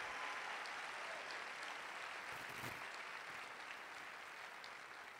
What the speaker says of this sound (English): Give Janet Napolitano a big round of applause.